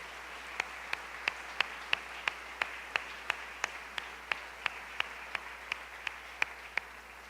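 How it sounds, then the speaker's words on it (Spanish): A church congregation claps in a steady, even beat, about three sharp claps a second, heard faint and somewhat distant against a quiet background. "Dele ofrenda de palmas al Señor."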